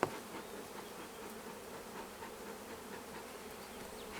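Honeybees hum in a steady, fairly faint buzz as frames are lifted from the hive and moved to a new one, with a small knock at the start and no talk.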